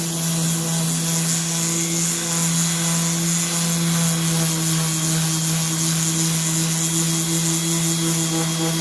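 A power sander grinds across a cabinet with 60 grit sandpaper, a loud, steady droning whine that holds unbroken throughout.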